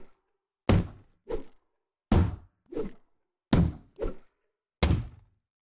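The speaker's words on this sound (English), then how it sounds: "It sounds like you're popping massive balloons." Seven heavy pickaxe impact effects from Fortnite, each a loud, sharp thunk with a short boomy tail, like bursting a huge balloon, falling in pairs with no talking.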